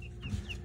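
Chickens cluck softly alongside young turkeys being raised together, a few short chirping calls over a low steady background.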